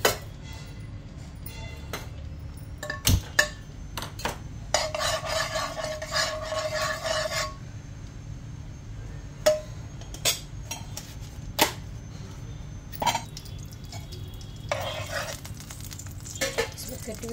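Chopped dry fruits fry in desi ghee in a pan while a spoon stirs and scrapes against the metal, giving intermittent scraping bursts and clinks over a faint steady sizzle, close and fairly quiet.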